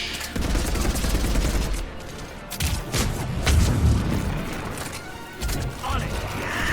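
Rapid gunfire and booming blasts from combat in the video game Mass Effect 3 on Insanity difficulty, loud and continuous with bursts of shots and impacts under people talking.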